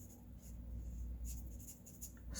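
A Spectrum Noir alcohol marker scratches softly across paper while coloring a cut-out lobster drawing, faint intermittent strokes over a low background hum, with no speech.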